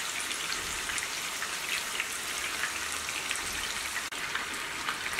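Chicken pieces for a pressure cooker chicken biryani shallow-frying in a pan, a constant bright crackling hiss like steady rain, even and close with no voices.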